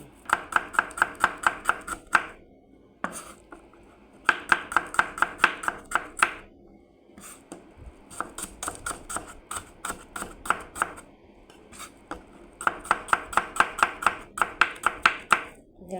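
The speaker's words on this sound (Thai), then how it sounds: "อันนี้หั่นหอมแดงนะคะ" Rapid knife chopping of shallots on a cutting board in repeated bursts of quick, even strokes, with short pauses between runs; close and crisp.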